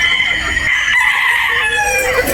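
Gamefowl roosters at a game farm in Batangas crow loudly over a steady chorus of other birds, with several overlapping calls nearby and further off.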